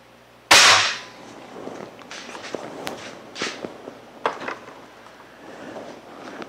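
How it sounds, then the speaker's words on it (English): A Ruger Air Magnum .177 spring air rifle fires once with a sharp, loud, close crack, followed by faint shuffling, handling clicks and light knocks. "take the safety and put it in the firing position, and gently squeeze the trigger"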